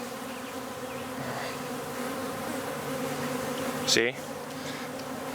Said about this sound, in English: These bees are so docile.